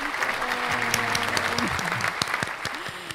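A podcast audience applauds for a university anniversary celebration, steady clapping continuing throughout with a background tone and faint voices mixed in.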